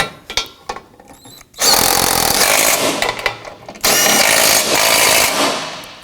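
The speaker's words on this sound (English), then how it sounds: "Let's go ahead and tighten down all of the bolts." A power tool tightening bolts on the rear bumper impact absorber of a 2018-2024 Toyota Camry: two loud, close, sustained whirring bursts with brief rattles before and between them.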